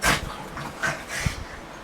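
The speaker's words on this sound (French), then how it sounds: "C'est le chien." A dog gives a few short yips and soft barks indoors, close by and moderately loud, with a brief whimpering edge, no talking.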